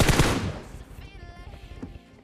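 A sharp burst of rapid gunfire from a PUBG-style battle royale game hits loudly at the start, then trails into echoing reverb and scattered lighter shots, with a processed sound.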